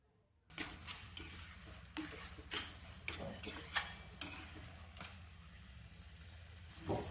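Sweet potato sheera being stirred in a pan with a metal spoon, a series of scraping clinks and taps at an uneven rhythm, close and fairly quiet.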